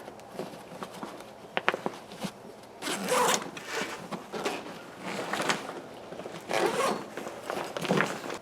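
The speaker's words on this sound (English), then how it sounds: "Undoing all four of these compression straps on the outside of the bag will allow you to go ahead and open up that primary compartment." Main compartment of a Rothco Move Out tactical backpack being unzipped, with repeated scraping zipper runs and fabric rustling, some louder pulls close by, no talking.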